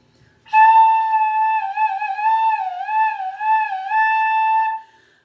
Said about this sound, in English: This one I call train whistle.